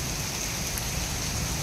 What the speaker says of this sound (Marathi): पाऊस बघा रात्रीपासून जी सुरुवात केलं आहे ते कंटिन्यू पडत आहे